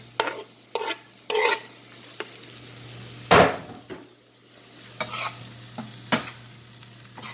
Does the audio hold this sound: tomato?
yes